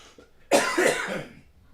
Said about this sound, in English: Stupid cough this morning